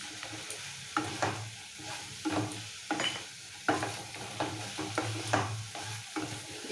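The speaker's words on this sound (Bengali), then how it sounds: "চিকেনগুলোকে যতটা সম্ভব একটু ভাজা ভাজা করে নিতে হবে" Chicken pieces frying in a little pepper stock with crushed peppercorns, stirred in bursts: repeated scraping and clacking strokes over a soft, low sizzle.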